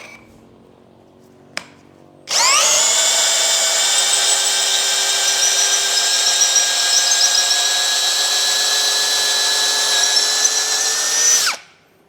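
An INGCO CIDLI205 cordless brushless drill bores a 10 mm hole, starting abruptly after a faint tick and holding a loud, high, steady whine for about nine seconds before cutting off.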